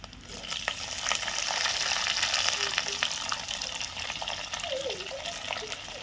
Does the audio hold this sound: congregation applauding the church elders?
no